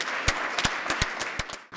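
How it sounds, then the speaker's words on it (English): Close, crisp claps stand out over a dense bed of audience applause for a panel at the Power from the North conference, brief and loud before cutting off. "I think we owe this remarkable panel a round of applause"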